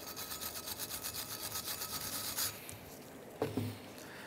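A wire brush scrubs the brake caliper bracket of a Mazda CX-9 in quick rhythmic back-and-forth strokes that stop abruptly. A brief metallic clunk follows, and no one speaks.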